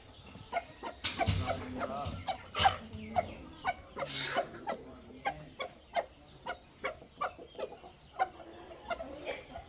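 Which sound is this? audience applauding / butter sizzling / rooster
rooster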